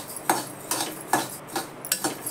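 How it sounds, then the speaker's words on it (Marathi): Coriander seeds roasting in a pan, stirred with a metal spoon so they scrape and rattle in regular strokes about every half second, close and clear with no talking. "आधी मी धने भाजून घेते"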